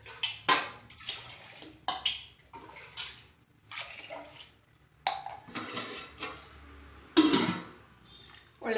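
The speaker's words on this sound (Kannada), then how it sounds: "ಇವಾಗ ಒಳ್ಳೆ ನೀರು ಹಾಕುವ ನೆನೆಸಿಡೋಣ." Clean water poured onto washed rice to soak, heard as several splashing, gushing bursts with clinks of a metal vessel in a quiet kitchen between the pours.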